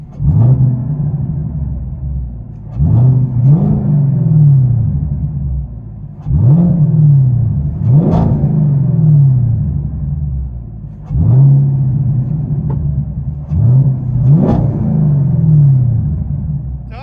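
A 2021 Chevy Camaro SS 6.2L V8 with straight-pipe dual exhaust, heard from inside the car, revs again and again, muffled, rising and falling in steady bursts over a boomy cabin rumble.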